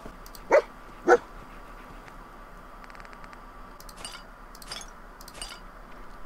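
A dog in the video game Fallout 4 gives two sharp, close barks, then several softer yips and whimpers over a quiet hum, with a faint metallic clink in between.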